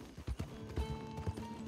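Horse hooves clop in an irregular rhythm as a horse is ridden in Red Dead Redemption 2, fairly close and soft, with a faint tonal hum beneath.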